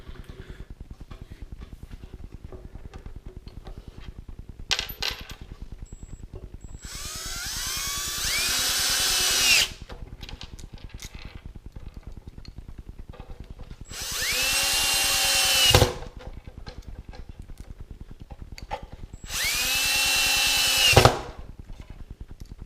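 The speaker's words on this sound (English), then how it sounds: "So now I'm gonna screw another piece of 2x4 on this side." A power drill drives screws into 2x4 lumber, three separate whining bursts of a few seconds each, each rising in pitch and ending with a sharp bite as the screw seats, with soft room noise and small clicks between.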